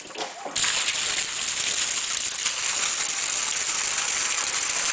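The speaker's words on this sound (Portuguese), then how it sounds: "Agora a gente vai fazer a apresentação da bomba Atman, colocar na água para os peixinhos" An Atman MP9500 electric water pump switches on in a pool holding tilapia, and a sudden steady rush of splashing water follows a brief quiet start, continuous and close.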